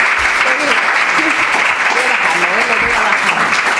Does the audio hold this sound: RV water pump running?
no